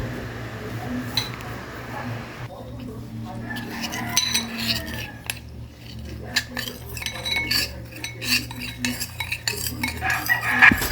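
Fresh vegetables from Benguet being stir-fried in a pan, with utensil scrapes and clinks against the metal over a low background hum and a rooster crowing now and then. No one speaks.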